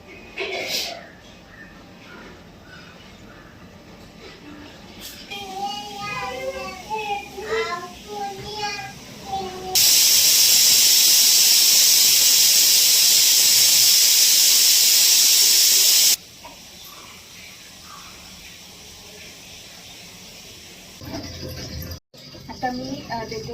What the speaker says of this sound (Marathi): फ्लावर आपण मस्त धुवून घेऊ